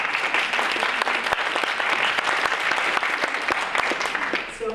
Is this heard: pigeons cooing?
no